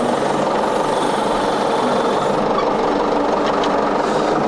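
A Ford 7610 tractor engine runs with a steady, loud diesel knock and drone that stays even throughout, with no clear change in pitch.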